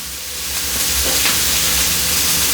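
Garlic sizzling in a hot skillet while roasted Brussels sprouts are prepared, a steady close hiss that builds slightly over a couple of seconds, with no talking.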